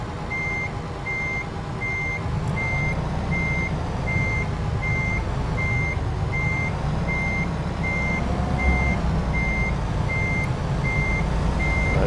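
Steady, evenly spaced reversing beeps from a truck backing up in American Truck Simulator, repeating throughout over a constant low diesel engine rumble.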